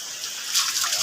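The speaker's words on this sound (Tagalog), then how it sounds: "Binubusan ng tubig." Water poured out to wash something outdoors by the seashore, a soft continuous splashing and trickling that swells in the middle and stays fairly close and moderate in level, with no talking over it.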